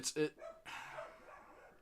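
Several dogs bark in quick yips and bow-wows close by, mixed with a person talking over them.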